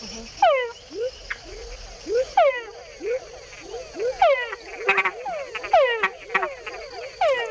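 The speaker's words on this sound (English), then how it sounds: "Male frogs make the added chuck sound to attract females." Repeated calls from male frogs in Panama, descending whines each followed by short chucks that attract females, several overlapping in a steady chorus, fairly close and loud.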